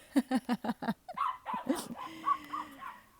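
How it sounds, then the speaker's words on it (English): Several dogs bark in a quick run of sharp, yappy barks, then break into higher yips and whimpering whines, all fairly distant and alone, with no talking. "The dogs agree. Can you hear them in the background?"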